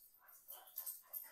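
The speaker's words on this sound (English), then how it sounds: "Here comes the dogs." Dogs yipping and barking in a few short, faint bursts, somewhat distant, with no other sounds around them.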